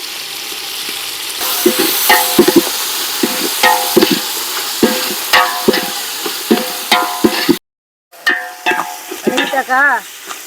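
Tomato and curry leaves frying with stone-ground turmeric paste for a rock fish curry, a steady sizzle broken by repeated scrapes and clacks of a stirring spoon, close and loud, with a brief cut of silence near the end.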